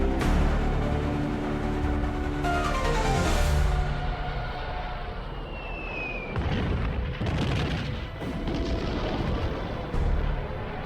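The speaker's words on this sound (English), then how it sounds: "Hitler orders the bombing of Warsaw" Artillery and bomb explosions during the WW2 bombing of Warsaw, a dense continuous rumble of booms and blasts with repeated heavy bursts, loud and sustained throughout.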